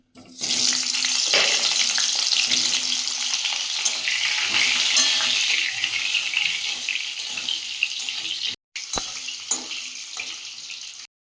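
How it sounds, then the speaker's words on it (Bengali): Potatoes with a little salt frying in hot oil in a kadai, giving a loud, steady hissing sizzle close up that runs almost unbroken, with a brief cut near the end. "নুন দিয়ে আলুটা ভাজবো"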